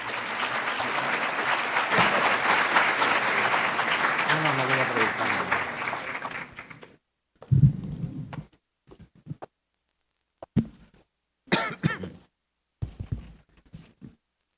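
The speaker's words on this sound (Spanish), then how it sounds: "doctor Fernando Miguel Leal Carretero, para quien damos un fuerte aplauso" An audience at an international congress applauds a keynote lecturer, with dense, loud clapping for about six seconds before it stops abruptly, followed by scattered handling thumps and brief speech.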